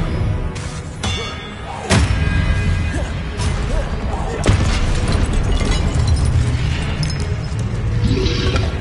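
Expelliarmus spell cast in Hogwarts Legacy, with a string of booming magical bursts and heavy thuds, one sharp blast near the start followed by a sustained rumbling clash of effects.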